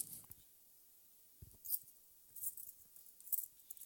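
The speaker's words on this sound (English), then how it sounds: "These are keys." Keys jangling in a preacher's hand during a sermon, heard as a few faint, short metallic clinks and rattles in otherwise quiet surroundings.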